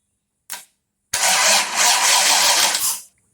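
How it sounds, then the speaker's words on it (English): A car's starter motor gives one brief blip, then cranks steadily for about two seconds before cutting off, loud and close with no talk over it. "I need to make sure that the starter motor actually works."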